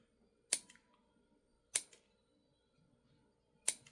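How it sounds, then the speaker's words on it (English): Three crisp snips of multitool scissors cutting cordage, spaced about a second apart, close and quiet with nothing else heard. "really good scissors on this one as well"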